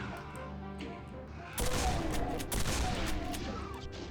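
Chain gun fire in the video game Scythe 2 erupts suddenly after a quieter opening, becoming a loud, sustained burst of rapid gunfire that continues to the end with dense, crackling impacts.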